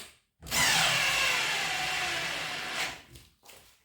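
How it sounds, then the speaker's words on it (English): A Parkside PNS 300 B3 two-speed drill screwdriver starts up and drills for about two and a half seconds, a loud close whine that winds down, followed by a short second burst. "That was all about this Parkside 2-speed drill screwdriver."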